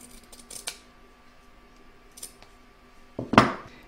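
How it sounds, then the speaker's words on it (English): Scissors snip fabric on a machine embroidery patchwork star block, a few light isolated cuts followed by a louder close snip near the end, with no talking. "I'll now take the tape off again and trim her up."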